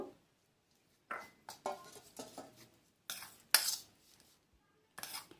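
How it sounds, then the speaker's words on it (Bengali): A spoon mixes liquid milk into a dry grated coconut filling in a bowl, giving intermittent scraping clinks and taps in short irregular bursts with quiet pauses between. "আমি কিছুটা লিকুইড দুধ নিয়েছি আমি চামচে করে অল্প অল্প করে দিয়ে একটু ভালো করে মাখিয়ে নেব"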